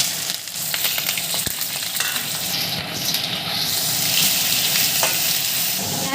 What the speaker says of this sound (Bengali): পেঁয়াজগুলো একটু ভাজা নাড়াচাড়া করে নিলাম, ভাজা ভাজা হয়ে গেল।